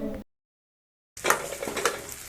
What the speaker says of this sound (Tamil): வெங்காயம் நல்லா வதங்கிச்சு பூண்டு போட்டேன் தக்காளி பட்டு உப்பு போட்டோம்னா கொஞ்சம் சீக்கிரம் வதங்கிடும்